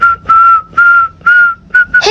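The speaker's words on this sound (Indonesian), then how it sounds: "Coba ya gue bersiul depan bu guru." A person whistles a series of about five sustained, steady single-pitch notes in even rhythm, loud and close, with a brief vocal sound at the very end.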